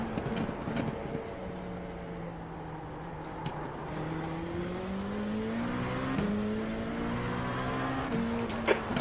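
Several race cars of mixed classes, including a Mustang, circle Phillip Island in a sim racing game, engines droning steadily with rising and falling pitch as they pass and shift, a continuous moderately loud roar with no talk.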